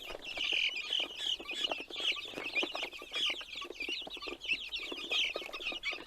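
Young chicks peep continuously in a dense, overlapping chorus of high chirps, close and steady throughout.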